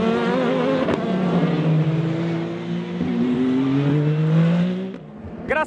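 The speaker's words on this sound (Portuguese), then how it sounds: "a única coisa que se vai ouvir são os motores dos carros do Mundial de Resistência" WEC endurance hypercars race at a circuit in Portugal, their loud engines screaming past with rising and falling pitch sweeps as several cars go by near the track, then fading toward the end.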